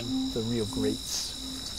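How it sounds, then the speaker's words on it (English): Carolina ground crickets, bush katydids and tree crickets chirp and trill together on a summer night, a steady buzzing ensemble heard under a short spoken phrase. "We've got Carolina ground crickets, bush katydids, tree crickets, and a whole distinguished ensemble."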